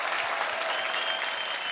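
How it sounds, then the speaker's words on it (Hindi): A studio audience at a television comedy show applauds loudly and continuously, a dense wash of many hands clapping that fills the short stretch without a break. "इन सबके लिए एक बार जोरदार तालियां बजाएं।"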